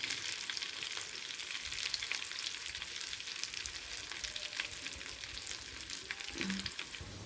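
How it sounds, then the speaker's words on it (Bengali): Potatoes fry in a pan with a steady, dense sizzle that runs unbroken for about seven seconds, with faint stirring scrapes and no voices. "আলুগুলো ভাজা মোটামুটি হয়ে গেছে।"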